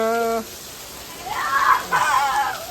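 Steady heavy rain in strong wind hisses throughout, with a brief tone at the start and a voice speaking partway through.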